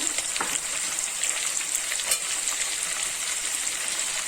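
Cashew nuts frying in a pan for coconut rice, a steady close sizzle with occasional light pops and crackles throughout.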